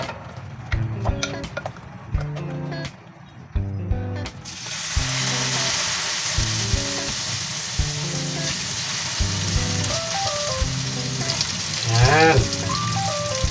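Crispy mixed vegetables fry in hot oil with a steady, loud sizzle that runs throughout, joined by music and occasional light clatter.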